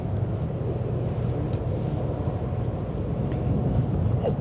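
Wind gusts across the open deck of the AIDAnova cruise ship during a sunset sail away on the Elbe, a constant low buffeting rumble against the microphone.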